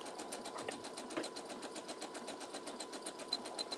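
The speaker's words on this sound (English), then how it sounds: "I'm going to do a zigzag stitch to close this up." A sewing machine runs a zigzag stitch while making a fringe skirt, a fast, even mechanical clatter that repeats steadily throughout, close and moderately quiet, with no talking.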